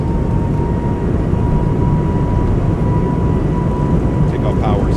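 Airbus A220 engines in a flight simulator spooling up to takeoff power, a loud steady roar with a sustained whining tone held throughout, dense and unbroken from start to finish.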